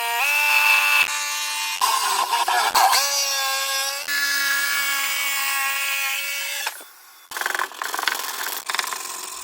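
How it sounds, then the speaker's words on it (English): A power saw whines loudly and steadily as it cuts a hole through a wooden workbench for a router lift plate, pitch dipping under load, then stopping briefly before a rougher cutting sound resumes. "the next thing to do was to cut the hole in the workbench"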